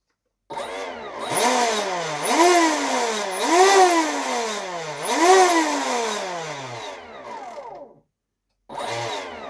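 Motor of a new RC monster boat revved in the air, a close buzzing whine swooping up and down four times, cutting out briefly, then starting again at the end.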